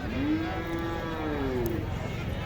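A cow lows once in a long, drawn-out moo that rises and then falls, heard close by over steady crowd noise at the traditional Gopinath buffalo fair in Naogaon.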